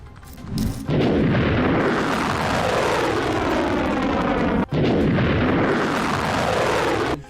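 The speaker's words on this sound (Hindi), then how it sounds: "मिसाइल को हवा में ही मार गिराने के बाद सायरन और धमाके की आवाज सुनी गई" A loud, sustained roaring rumble of heavy explosions and blasts as a ballistic missile is intercepted in the air over Tel Aviv, with a sharp crack midway before the thunderous din continues.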